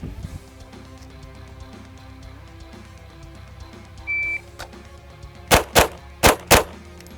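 Four loud, sharp pistol shots in two quick pairs, fired from the holster at seven yards during a timed standards drill, preceded by a brief electronic start beep over a quiet outdoor range.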